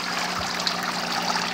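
Water from a drilled PVC pipe draining back into an indoor fish tank, a continuous close trickle and splash with a low steady hum underneath.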